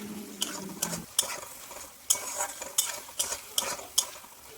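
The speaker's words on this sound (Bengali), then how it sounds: "কড়াইয়ের মধ্যে খুন্তি দিয়ে ভালো করে মশলাটাকে নাড়িয়ে চাড়িয়ে নেবেন যাতে এটা কড়াইয়ের মধ্যে লেগে না যায়" A spatula stirs spice masala in a wok while making kadai paneer without onion or garlic; sharp scraping strokes come in an irregular rhythm over a soft sizzle, close and fairly quiet, with no talking.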